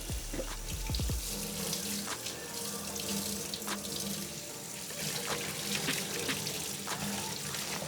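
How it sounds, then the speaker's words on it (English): Tap water runs steadily into a sink while dirty shoelaces from restored 1985 Air Jordan 1 sneakers are rinsed, a continuous close splashing flow with occasional sloshes and no talking. "Now that I rinsed out all the dirty water of the shoelaces"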